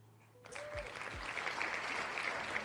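Applause starts abruptly after a brief quiet moment and quickly builds into steady, fairly close clapping from a small audience, with a couple of low thumps early on.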